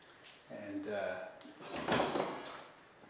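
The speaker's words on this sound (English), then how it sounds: "the door is open on a window, basically using a window regulator in order to open the doors" A Lamborghini Countach replica's door opens by way of a window regulator, giving a short mechanical whir and a sliding, clunking movement, close and moderately loud, while someone talks over it.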